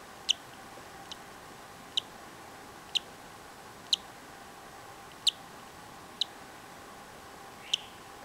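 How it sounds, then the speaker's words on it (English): A baby cockatiel chick chirps faintly from inside a nest box, a series of short, thin, high peeps spaced roughly a second apart over a soft background hiss. "I could have sworn I heard chick chirping."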